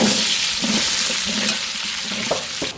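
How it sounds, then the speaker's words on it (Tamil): Onions sautéing in a pan, a loud, steady close sizzle with occasional soft stirring knocks throughout, and no one speaking. "வெங்காயம் வந்து ஓரளவு வதங்கிடுச்சு"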